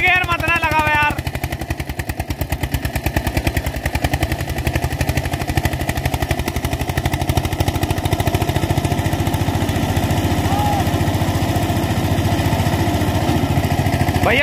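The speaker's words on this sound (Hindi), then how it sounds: "भैया बिना पुली गेयर लगाए तो चला रहा रूटर" A 1994 Eicher 241 tractor engine drives an 8-foot rotavator (rotary tiller) running without a pulley gear, a loud steady rapid diesel chugging that continues throughout, with a brief higher whine at the start.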